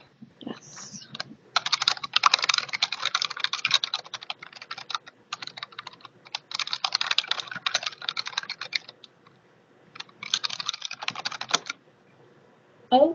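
Fingers type on a computer keyboard in several quick, fairly quiet bursts of rapid key clicks separated by short pauses.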